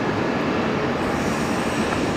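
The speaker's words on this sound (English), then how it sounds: "Air train departure." An airport air train departs, a loud continuous rumble of rail cars and wheels rolling steadily past at close range, with no talk over it.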